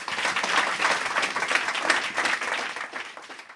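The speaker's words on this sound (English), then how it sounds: "Let's give them all a round of applause." Applause from a science festival audience at a live quiz show, dense and steady, loud and close, filling the whole moment without pause.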